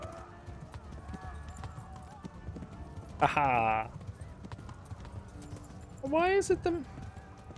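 Hooves of a horse gallop along steadily in the video game Kingdom Come: Deliverance, with two loud whinnies breaking through. Someone talks over it.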